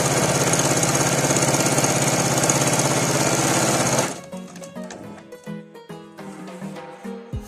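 Singer Quantum L 500 sewing machine stitching a pintuck seam, a loud steady mechanical whir for about four seconds, then stopping abruptly and giving way to quieter knocks and clicks of handling.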